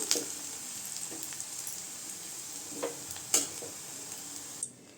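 Ingredients for coriander chutney sizzle steadily in a pan. The frying noise stays constant, with a few sharp clicks of a stirring spoon scattered through it, and it cuts off near the end.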